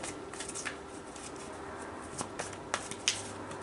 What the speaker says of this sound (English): I'm going to pull some romance angel cards just to get a better handle on this